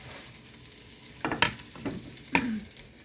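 Onions and mushrooms fry quietly in a pan for a ratatouille, with a faint steady sizzle and a few sharp stirring scrapes and knocks near the end.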